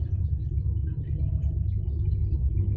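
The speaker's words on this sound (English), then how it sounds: "there is a choo-choo train going behind the house at this very moment" Low, steady rumble of a train passing behind a house, continuous and fairly distant throughout, with no talking.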